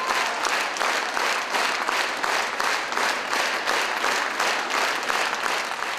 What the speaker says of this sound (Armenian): արժանանալով չընդհատվող ծափահարությունների և բրավոների